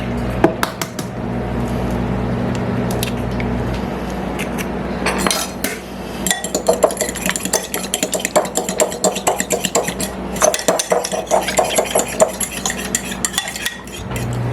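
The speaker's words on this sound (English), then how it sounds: "we want to slightly beat them before we add them" A fork or whisk rapidly clinks against a bowl while eggs are beaten for a 1959-style pumpkin pie, a quick steady scraping and tapping rhythm that keeps going, close and clear with no talking.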